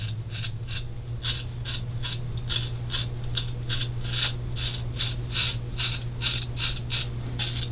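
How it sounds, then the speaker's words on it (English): A razor scrapes stubble, lathered with Williams Mug shaving soap, in a series of short rasping strokes at a steady rhythm, close and clear over a low constant hum, with no talk. "Lots of stubble coming off the blade."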